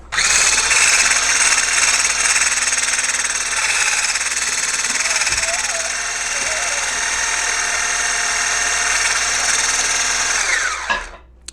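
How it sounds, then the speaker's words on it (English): Whipped shea and coconut body butter being beaten in a bowl, giving a steady, loud motorized whir that runs almost unbroken for about eleven seconds before cutting off at the end. "The more you whisk it, the fluffier it becomes"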